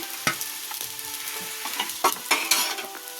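A spoon stirs rice with curry leaves in a frying pan for gooseberry chitranna, giving soft sizzling under repeated scraping and clinking strokes against the pan, close and fairly loud, with no talking.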